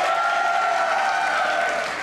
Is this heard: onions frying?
no